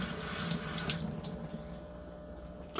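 Tap water runs steadily into a sink while brine shrimp eggs are rinsed, a loud continuous splashing stream that eases slightly partway through, with no voices.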